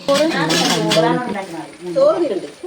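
A cooking pot is opened in a home kitchen while a fish dish is made with chilli, turmeric, coriander and green chilli, giving a brief metallic clatter of dishes close by under a steady voice.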